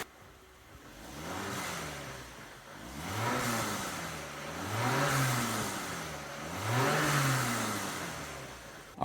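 A 1991-1995 Acura Legend engine, freshly repaired after a head gasket job, runs steadily near at hand while warming up, its pitch rising and falling in slow, regular surges as though gently revved, with no voices.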